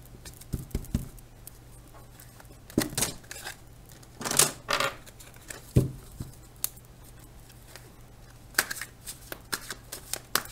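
Oracle cards being shuffled by hand in quiet bursts of riffling and flicking, with soft pauses between handfuls and no voices over the cards.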